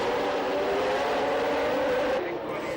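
Formula 1 engines of the 1989 McLarens roar at race pace, a steady loud high-pitched engine drone throughout, with a commentator's voice running over it.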